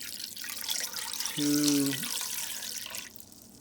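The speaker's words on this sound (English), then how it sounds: "Just add your water" Water pours steadily into a pan holding chicken for a homemade chicken soup, a close rushing splash that swells for a couple of seconds, with a voice talking over it.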